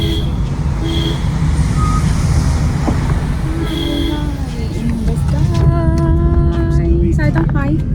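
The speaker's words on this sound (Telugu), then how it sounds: "వెనకాలేమో లారీస్ వస్తున్నాయి" Lorries coming up behind on a road, one truck sounding repeated reversing beeps in a steady chirping pattern over the engine rumble and traffic hum, with a voice talking nearby.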